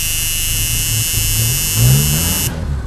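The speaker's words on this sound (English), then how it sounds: "Will it start? Well, I guess that's not really even a question. I know it'll start." A 1977 Chevrolet Chevette's 65-horsepower engine runs loudly and close up with a steady droning rumble, then revs briefly before settling back.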